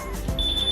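A portable gas detector powers on with a steady, high electronic beep tone that starts partway through and holds, close and fairly loud, without talk.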